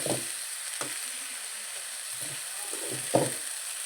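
Ingredients fry quietly in a pan with a steady soft sizzle, broken by a few low scraping and stirring knocks, one slightly louder near the end.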